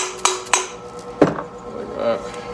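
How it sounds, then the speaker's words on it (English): A rubber hammer taps parts into place on a 1990 Harley-Davidson FLHTC Evo engine top end, giving three short dull knocks, the last one heavier, with faint workshop clatter around them. "if you got a rubber hammer, you just give those a little tap."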